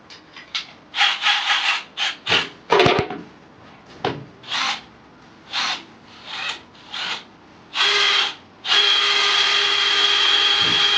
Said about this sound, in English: I'm going to go ahead now and drill out some of these spot welds.